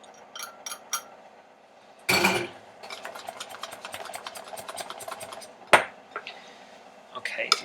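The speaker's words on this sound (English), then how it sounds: "I'm going to just stir it around with my small whisk" A small whisk stirs powdered-sugar glaze for cookies in a bowl, making a quick rhythmic ticking against the sides, with a few louder clanks and a voice speaking over it.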